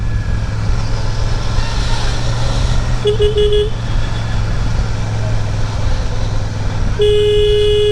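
Horn of a Royal Enfield Super Meteor 650 motorcycle, apparently the stock horn, gives two short honks, the second one longer, over steady road and engine noise while riding in traffic.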